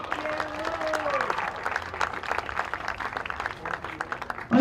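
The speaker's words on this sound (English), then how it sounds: "Big round of applause for Logan Dunbar." Crowd applause at a high school varsity baseball game honoring a senior player, scattered clapping from a modest crowd with a few voices and a public-address tone rising near the end.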